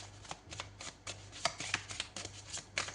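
A deck of tarot cards being shuffled up close, rapid papery riffles and soft slaps in quick, uneven bursts over a faint steady background hum.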